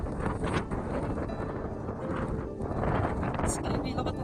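Strong gusty wind buffets the microphone outdoors in Mindanao, a steady broadband roar that runs throughout and swells near the end.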